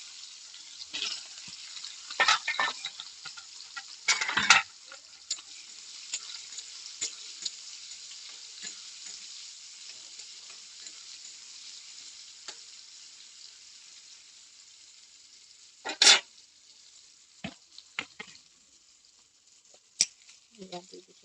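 Onions and dried red chillies frying in a pan, a steady hiss running underneath with occasional louder crackles and stirring clatters, no talking.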